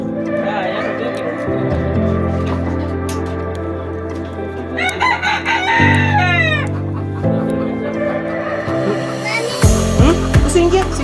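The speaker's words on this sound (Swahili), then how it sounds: "Hizi hazitaniuma, hizi bata." Domestic ducks and other fowl kept as pets in a dirty coop, calling and squawking in repeated close bursts, mixed with loud clucking and crowing-like cries, with a person talking among them.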